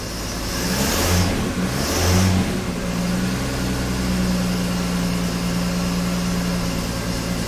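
A budget turbocharged car engine idles running slightly rich, a steady low hum with an even tone, briefly swelling twice near the start before settling into a constant drone.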